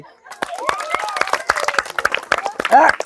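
An audience claps at a village ball-throwing game, a few sharp, scattered hand claps building into brief applause, with a voice speaking over it.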